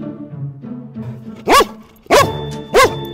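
A young dog barks three times, loud and close, with low whines and yips between the barks.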